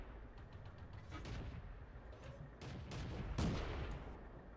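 Tank cannon and gunfire in the World of Tanks video game, several booming shots and blasts in quick succession over rumbling battle noise, moderately loud and heard alone.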